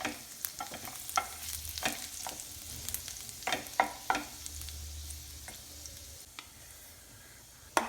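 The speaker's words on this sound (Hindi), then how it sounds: "तो सबसे पहले मैं इसमें गार्लिक डाल रही हूँ। Will saute the garlic properly." Chopped garlic sizzles softly in olive oil in a pan while a spoon stirs it, with scattered clicks and scrapes over a low, steady frying hiss.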